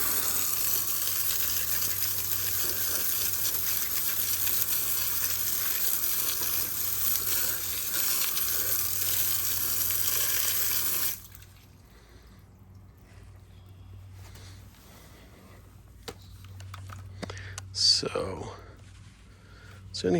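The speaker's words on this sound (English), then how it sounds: "we're going to give it a blast with the hose here and see what it does" Garden hose spraying water on a car wheel, a loud steady hiss for about eleven seconds that then cuts out, leaving quieter dripping and handling sounds with talk.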